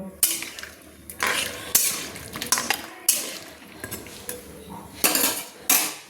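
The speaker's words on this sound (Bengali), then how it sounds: "তার জন্য আমি দিয়ে দিলাম একটা থালা, একটা চাপা আমি দিয়ে দিলাম" A metal plate clanks onto a pot as a lid while kamalu simmers with turmeric, with repeated loud clattering of dishes and cutlery close by amid quieter kitchen noise.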